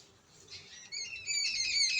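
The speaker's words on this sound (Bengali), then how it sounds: "আপনারা হয়তো শুনতেও পাচ্ছেন ওদের কিচিরমিচিরগুলো" Many birds chirp and twitter in the trees outdoors, a busy chorus of bright overlapping calls that grows louder toward the end, with no talking.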